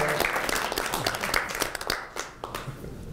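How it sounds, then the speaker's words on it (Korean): Attendees at a Democratic Party supreme council meeting applaud, a close burst of clapping that starts full, loosens into scattered claps and trails off after a few seconds. "박수 부탁드려요."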